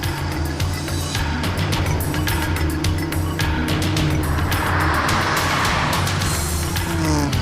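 A car driving fast, a continuous loud engine roar with tire noise and rushing wind that stays steady and close throughout, with no talking.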